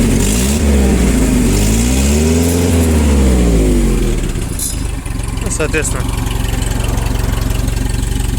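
A 1.5-tonne Japanese forklift's engine runs loudly up close, revving up and back down before settling into a steady idle while someone speaks over it.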